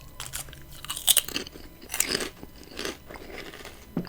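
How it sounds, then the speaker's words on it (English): Close, crisp crunching from bites into a brittle potato chip, a few sharp cracks followed by chewing, quiet and with no talking. "I'm gonna grab a chip. That one looks extra crunchy."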